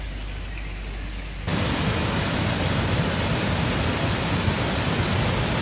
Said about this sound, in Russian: Пойду освежусь у водопада немножко